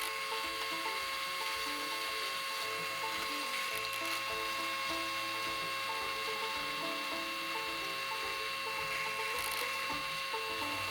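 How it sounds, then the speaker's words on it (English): A 3/16 drill bit bores straight through a knife handle, a continuous steady mechanical whir with a faint ratcheting chatter, close and even from start to finish. "I'm just going straight through it with the 3/16 drill bit"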